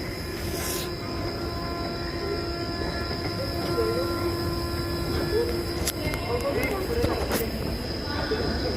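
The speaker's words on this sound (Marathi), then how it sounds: "ट्रेन, लोकल ट्रेन आता चालू झालेली आहे." A train rumbles steadily along the rails, with metallic clatter and occasional high squeals from the wheels, loud and continuous throughout.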